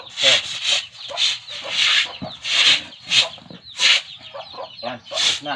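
Chickens clucking repeatedly in a farm yard while droppings are swept up, a series of loud, close bursts of hen calls with chicks around, no talk.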